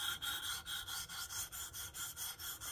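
Pen knife blade being sharpened on a KME sharpener: about a dozen steady, evenly spaced rasping strokes of stone against steel, close and quiet, with no talking.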